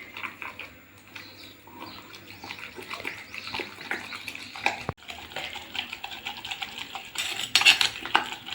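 A stone mortar pounding red chillies with tamarind flakes for a rustic chutney, with repeated uneven thuds and scraping grinds, one sharp knock partway through and a busier clattering burst near the end.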